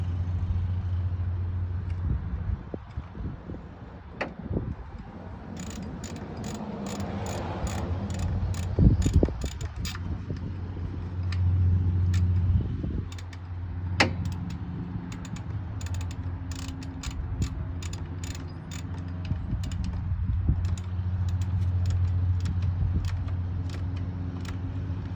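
Ratchet wrench tightening a bolt on a 1994 Harley Davidson FLHR Road King during a primary oil change: bursts of rapid close clicking ratchet pawl strokes, repeated in runs with brief pauses between, over a low garage hum.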